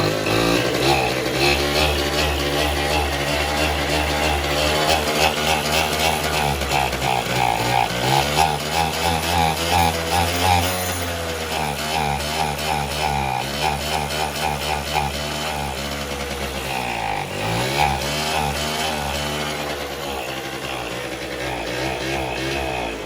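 A Suzuki LT80 quad's small engine runs steadily and loud, its buzzing drone rising and falling with throttle, revving up and easing back across the whole stretch with no talk over it.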